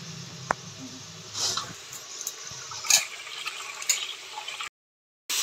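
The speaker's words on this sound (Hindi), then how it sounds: "तो चावल को भी धो लेते" Rice being rinsed by hand in a pot of water while making dry khichdi, with soft sloshing and splashing throughout and a short silence near the end.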